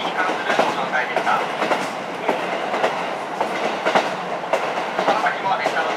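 KiHa 54 diesel railcar running on the Horonobe to Wakkanai line as a special express, with steady rumble and rhythmic clickety-clack of wheels over rail joints, heard close from inside the car.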